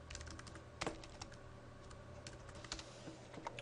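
Keys tapped on a computer keyboard while entering data into a spreadsheet, quiet and irregular, with one sharper cluster of strokes near the start and scattered light clicks after.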